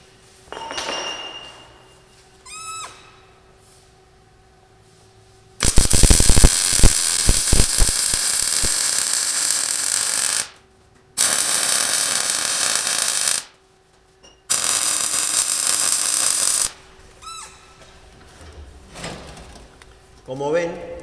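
A hydraulic trailer hitch tack-welded in a workshop, with three loud, crackling bursts of welding several seconds each separated by short silences, plus light clinks of metal and handling before and after.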